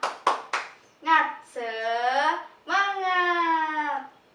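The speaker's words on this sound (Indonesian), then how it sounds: "alangkah baiknya kita tepuk semangat terlebih dahulu ya" A classroom spirit-clap routine, or tepuk semangat, opens with three sharp, close hand claps in quick succession, then gives way to drawn-out chanted voices that dominate the rest.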